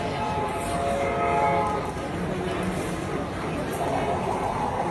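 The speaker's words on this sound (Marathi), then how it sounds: "मस्त ट्रेन आलेली आपली आणि आपली ऑर्डर देखील आलेली होती" A toy train rolls in to deliver a food order at a railway-themed restaurant, its steady running rumble and a horn-like tone sounding through loud restaurant chatter and voices, with a clatter of movement across the scene.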